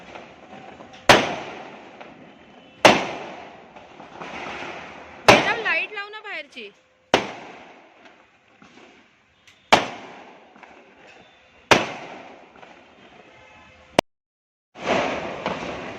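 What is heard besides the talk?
firecrackers bursting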